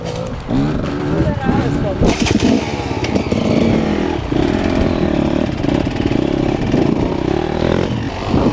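An enduro motorcycle engine revs continuously and loudly up close as the rider builds throttle for a jump on a dirt track, with someone talking over the engine noise.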